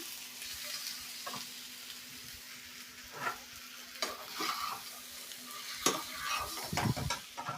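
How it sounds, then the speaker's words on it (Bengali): Egg and potato frying in spice masala in a pan: a soft, steady sizzle broken by scraping stirs and occasional clinks of the spoon against the pan, close and fairly quiet, with no voices. "ডিম আর আলুটাকে কিন্তু এই মশলার মধ্যে মিনিট খানিকের মতন কষিয়ে নেব।"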